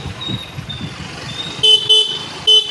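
A scooter horn sounds on the road at a turn: three short loud honks, one long and two spaced beeps, after a stretch of low traffic rumble.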